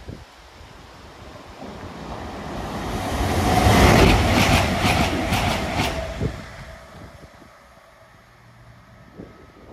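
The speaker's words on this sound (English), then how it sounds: "Train approaching platform 1." A train approaches platform 1 at Highbridge station in wet, windy weather, its rumble swelling loud and close around the middle before fading, with gusting wind throughout.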